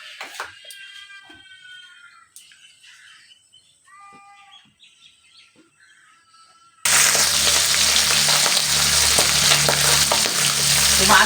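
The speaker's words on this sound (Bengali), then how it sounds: "মাছগুলো কিন্তু আমি তেলের মধ্যে ছেড়ে দিয়েছি, দেখছো কীভাবে উঠছে, তেল একদম ঠিকই গায়ের মধ্যে পড়ছে।" Pabda fish dropped into hot mustard oil, a loud dense frying roar that suddenly begins partway through after a quieter stretch of faint chirps and meow-like calls.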